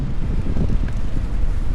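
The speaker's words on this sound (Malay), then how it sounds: "Kuat angin tu." Strong wind buffets the microphone at a Desaru roadside stop, a loud low roar with gusty rumbling that stays steady throughout and has no voices over it.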